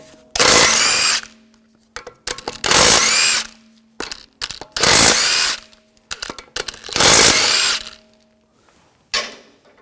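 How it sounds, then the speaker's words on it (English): Power tool with a 17 mm socket spinning off lug bolts on a 2004-2009 Audi A4 Quattro wheel, four loud close bursts of about a second each, separated by clicks and handling noises, with a short final burst. "Using a 17 millimeter socket, take the lug bolts off."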